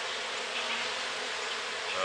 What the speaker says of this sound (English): You see those bees there? They are fanning